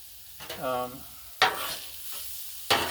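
Food sautéing in an Emeril Lagasse pressure air fryer on its sauté setting, drying and toasting: a brief tonal squeak or whine is followed by quiet frying and two loud, close scraping stirs.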